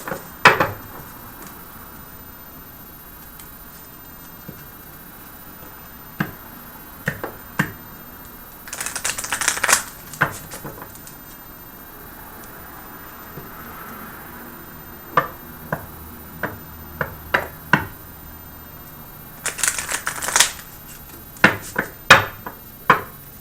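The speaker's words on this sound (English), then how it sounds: "Can I shuffle them?" Crisp, irregular bursts of flicking and riffling cards, loud and close, with quiet pauses between clusters of shuffles.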